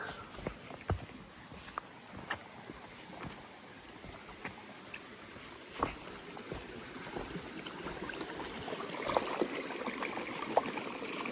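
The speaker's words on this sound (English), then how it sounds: "got a little creek crossing here." A hiker on the Appalachian Trail crosses a small creek, with a quiet, steady trickle of stream water under scattered crunching and splashing footsteps that grow busier toward the end.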